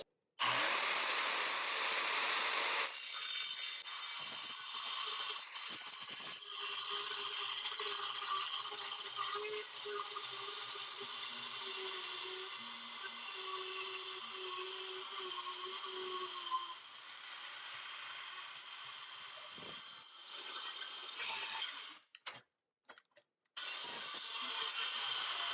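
An Evolution multi-material circular saw cutting, a loud, sustained whining cut running close for about twenty seconds with tonal shifts, then brief stops and a restart near the end; no speech.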